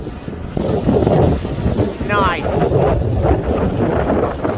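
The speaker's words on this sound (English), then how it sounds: "It's pretty windy." Strong wind buffets the microphone in a loud, continuous roar, with a brief word spoken partway through.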